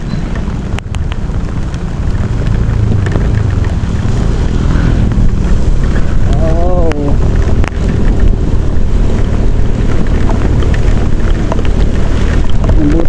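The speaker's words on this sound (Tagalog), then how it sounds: "Lakas ng ulan." Heavy rain pours down on a road stuck in traffic, a loud, steady roar that runs unbroken from start to finish, with a few faint tonal sounds briefly in the mix.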